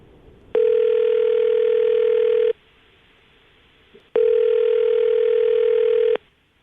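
Two long telephone ringback tones sound over a line while a call is placed during a radio show, each steady buzzing tone lasting about two seconds with a quiet gap between them.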